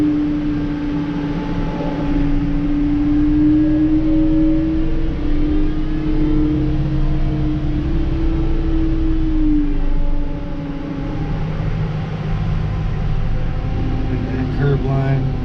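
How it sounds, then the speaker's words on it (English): A snow plow vehicle drones with a steady, close engine rumble as it pulls out and scrapes snow in a commercial parking lot at night, the pitch shifting slightly as it moves. "I'll pull the car out from where it's sitting, scrape that spot."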